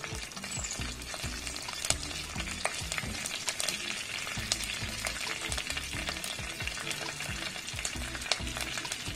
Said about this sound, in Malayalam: കടുക് പൊട്ടിയ ശേഷം കറിവേപ്പില ചേർക്കാം